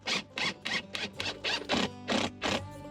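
Screws 1 5/8 inch long are driven into wooden bracers for a car camping bed in a RAV4's trunk hatch, heard as a rapid run of about eight short, close whirring bursts in a steady rhythm, with no talking.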